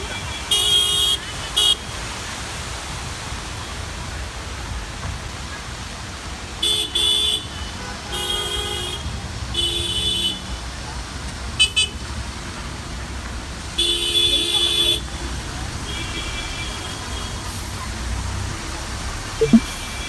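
Car horns toot repeatedly in short and drawn-out blasts over steady heavy road traffic at a Tamil Nadu hill station. The honks come from several vehicles nearby, spread across a continuous engine-and-tire rumble.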